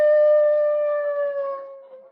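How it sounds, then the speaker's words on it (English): A wolf howl sound effect from an old radio comedy show: one long, steady, tonal howl that slowly fades and drops slightly in pitch, with no talking. "that sounded like a wolf."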